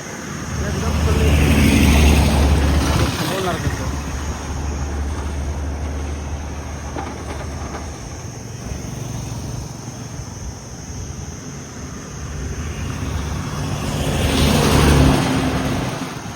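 Cars and rickshaws passing on a roadside at night, their broad engine rumble and tire roar swelling near the start and again near the end, with a steadier traffic drone between and voices talking over it.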